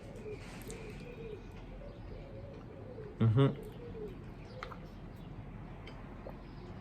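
Pigeons or doves cooing near trees outdoors, with one short, loud burst of cooing close by over a constant hum of background noise, and a few words of speech.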